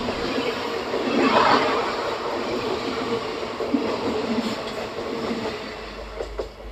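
A WAG-9 electric locomotive hauls the Kakatiya Superfast Express past near Pagidipalli cabin, a steady loud rolling rumble of wheels on rails holding throughout with faint clatter and no voices.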